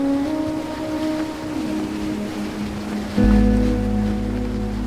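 Rough ocean swells of about ten feet wash against a sailing boat running offshore along the East Coast. The motors are off, and a steady rushing roar of water and wind carries tonal hull hums, swelling heavier partway through. No one speaks.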